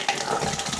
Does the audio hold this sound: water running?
yes